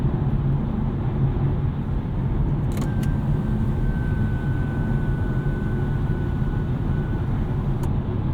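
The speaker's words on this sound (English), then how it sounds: "Road noise, NVH, pretty decent in this i4. A little bit of sound from these Michelin Pilot Sport 4s" Steady road and tire roar from Michelin Pilot Sport 4 tires on a 2023 BMW i4 eDrive40 cruising at about 70 mph, a continuous low hum and hiss heard from inside the cabin with no talking.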